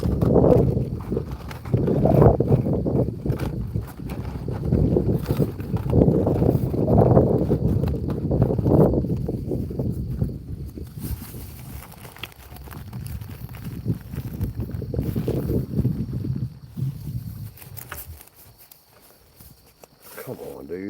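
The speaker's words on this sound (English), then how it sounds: "Y'all will probably hear nothing but wind." Wind buffets an outdoor livestream microphone in gusty, rumbling bursts, while a voice talks intermittently over the noise.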